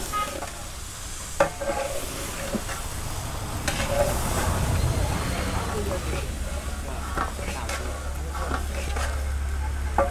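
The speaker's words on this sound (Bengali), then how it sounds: "গরম পানি দিচ্ছেন।" Hot water goes into a pot where rice and chicken are frying for biryani, setting off a loud, steady sizzle and bubbling hiss with stirring scrapes. Someone talks over it.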